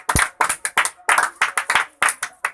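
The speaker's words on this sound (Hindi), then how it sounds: "ताली बजा तो आ रहे, ताली बजा" Onlookers at a street magic show clap nearby in loud, quick, uneven claps that form a rapid rhythm lasting a couple of seconds.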